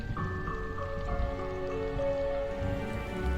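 Steady rain falls in the video game Nancy Drew: Midnight in Salem, a continuous patter mixed with soft background music.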